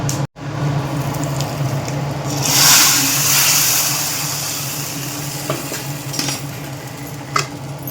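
Steady sizzling of spices hitting hot oil, a bright hiss swelling briefly then settling, with faint clinks of a utensil nearby.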